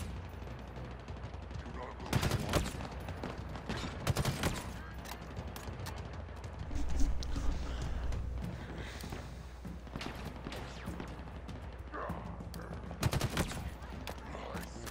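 Gunfire in Halo Infinite cracks out in irregular bursts and single sharp shots, some loud and close, others fainter, while players talk intermittently over the action.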